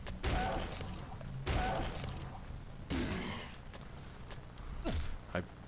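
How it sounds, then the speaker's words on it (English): Dull wooden plank blows striking an enemy in Silent Hill 2, several heavy thuds spaced through the stretch amid eerie game noise, fairly close and moderately loud. "I beat him with the plank instead of kicking him"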